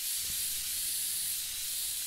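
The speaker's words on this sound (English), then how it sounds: "And the sound of the spraying can is" Steady, continuous hiss of a spray can held down in the Woodwork Simulator game, spraying paint on a wooden pole, loud and unbroken for about two seconds with no talking.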